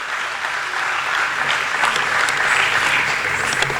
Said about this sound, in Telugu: మనం గట్టిగా చప్పట్లు కొద్ది ధన్యవాదాలు చెబుదాం